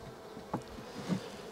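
Honey bees buzzing at an open beehive with frames of brood exposed, a faint steady hum with two brief louder passes of bees flying close by.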